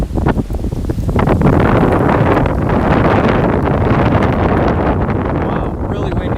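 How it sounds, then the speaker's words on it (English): Heavy wind buffeting the microphone in continuous loud rumbling gusts, with a roaring, blustery texture throughout. "that gust of wind is crazy"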